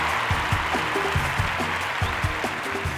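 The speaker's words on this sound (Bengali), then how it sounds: "আর একজনের জন্য একটা প্রচণ্ড জোরে হাততালি" Studio audience clapping on a televised singing-competition stage, broad steady applause with low musical tones underneath.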